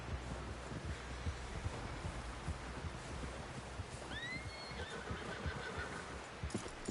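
A horse in Red Dead Redemption 2 lets out a rising whinny midway through, over steady hoof clip-clops and a dense rumbling background, no voices.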